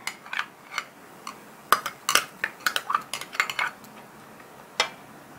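Chicken salad being mixed with large chopped onions in a bowl, with a utensil clinking and scraping in irregular bursts, close up and with no one speaking.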